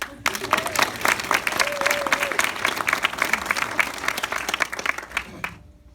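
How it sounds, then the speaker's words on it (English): Audience applause during a salutatorian graduation speech, a dense continuous round of clapping with scattered cheers that fades out abruptly at the end. "So can we just give a round of applause to my parents for putting up with me?"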